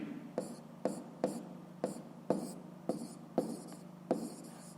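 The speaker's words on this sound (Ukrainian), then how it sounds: "Пишемо тоді." Pen writing on paper during a fifth-grade math lesson: a series of about nine short scratchy strokes at a steady rhythm, close and fairly quiet, with no talking.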